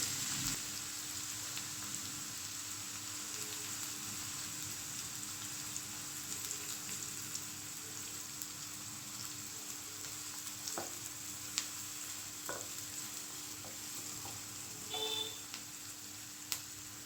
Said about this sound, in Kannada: ಈಗ ಕಟ್ ಮಾಡಿಟ್ಟಿರೋ ಒಂದು ಮೀಡಿಯಮ್ ಸೈಜ್ ಈರುಳ್ಳಿನ ಹಾಕೋತಾ ಇದ್ದೀನಿ ಲೋ ಫ್ಲೇಮಲ್ಲಿ ಇಟ್ಕೊಂಡು ಫ್ರೈ ಮಾಡ್ಕೊಳ್ಳಿ